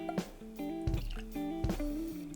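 Barrel Foundation 5-year 100 proof bourbon is poured into a Glencairn glass, giving a short, close, faint trickle with small glugging splashes and a few drips.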